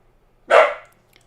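A single dog bark, short and fairly loud, rings out once in an otherwise quiet indoor space.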